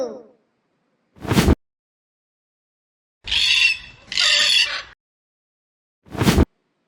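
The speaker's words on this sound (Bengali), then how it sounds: "এটা হলো কাকাতুয়া," A cockatoo gives two harsh, raspy screeches back to back, loud and close, with brief sharp noise bursts before and after and silence in between.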